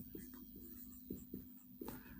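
Faint pen strokes writing an algebraic equation on paper, with several short scratching and tapping sounds in an irregular rhythm over a steady low hum.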